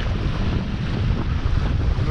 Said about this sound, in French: Le vent se maintient.